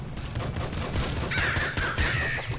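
Crows in the video game Nuclear Throne give a couple of harsh caws over a busy low rumble of gameplay noise, with no speech.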